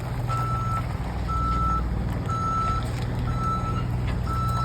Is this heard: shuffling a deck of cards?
no